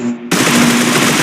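Groza assault rifle in a video game team deathmatch, a sudden burst of rapid automatic fire, loud and dense, following a brief low hum.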